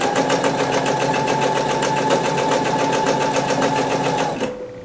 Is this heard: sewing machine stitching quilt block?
yes